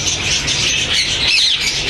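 Ring-necked parakeets at a busy Sunday bird market in Bahawalpur, loud harsh squawks and shrill calls overlapping continuously up close, with no talking.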